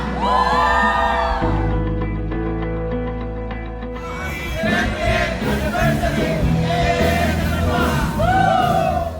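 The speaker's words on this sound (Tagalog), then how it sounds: "Pinakamaingay, pinakamalakas, pinakamainam na palakpak sa ating Panginoon!" A church congregation at a Jesus Is Lord anniversary celebration cheers and yells loudly, a sustained roar of many voices with whoops rising and falling, while music plays underneath and an amplified voice cuts in at the start.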